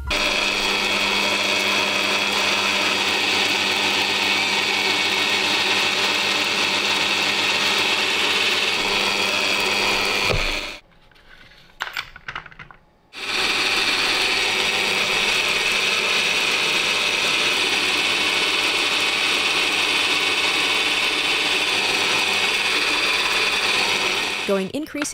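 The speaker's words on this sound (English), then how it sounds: "or use a drill press as me." A drill press bores out the rivet of a Shimano or Daiwa fishing reel knob, a steady loud mechanical whir running continuously apart from a short pause near the middle.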